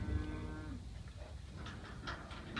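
A Brangus cow moos with a low, drawn-out call at the start, followed by lighter farmyard noise and scattered higher sounds.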